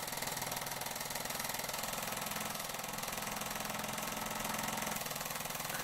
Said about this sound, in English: 1946. Mamod SE2 under steam and running just as well as it ran 72 years after it was made.